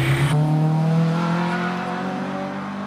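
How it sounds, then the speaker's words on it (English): A 2-litre Renault Clio hot hatch at a Prescott hill climb, its engine note holding a steady, strained drone as it climbs, heard fairly near and without talk. "the journalist's favourite hot hatch, the Renault Clio. 2-litre form."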